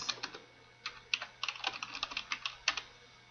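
Keys clatter on a computer keyboard as a URL is typed into a web page link box, a quick irregular run of close, light clicks over a quiet background.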